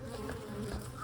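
Insects buzz close around someone standing outdoors, a continuous droning hum with no other sound over it.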